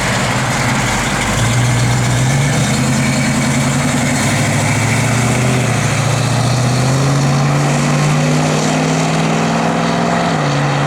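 A 1965 Ford Mustang idling close by, a loud, steady low rumble whose pitch wavers slightly with a small throttle rise partway through, with no voices.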